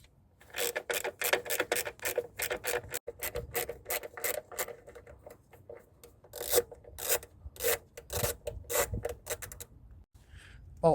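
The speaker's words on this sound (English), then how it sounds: "I'll start by undoing these 3 bolts." A ratchet works the carburettor bolts loose on a Renault 5 Campus, giving a rapid, steady run of close clicking strokes with short pauses, loud and with no talk.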